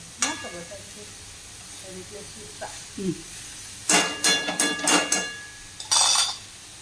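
Water poured into frying zunka in a pan sets off loud bursts of sizzling hiss, several sharp surges in quick succession after a few quieter stirring sounds, close and intense.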